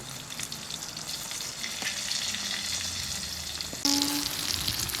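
Thick slices of eggplant fry in hot oil in a home kitchen, a continuous close crackling sizzle that jumps louder as more pieces hit the pan, with a brief scrape partway through.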